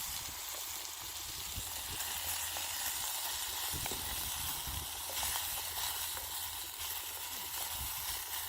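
Breakfast sizzling in a pan over a Kelly kettle hobo stove attachment on a beach, a steady soft frying hiss with faint crackles running throughout, fairly close and low in level.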